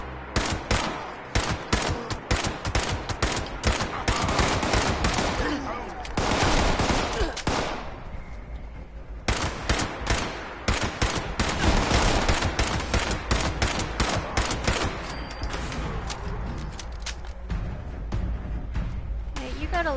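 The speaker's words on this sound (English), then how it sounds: "Laser gun, that's not fair." Quick-firing laser gun shots in Fallout 76, a dense run of sharp repeated bursts at close range with short pauses between volleys, loud and continuous, with speech mixed in.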